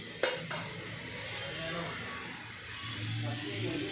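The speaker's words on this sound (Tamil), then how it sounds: "சோம்பு சோம்பு பொரியட்டும்" Fennel seeds sizzle and crackle in hot oil, a steady frying hiss with a couple of sharp clinks near the start.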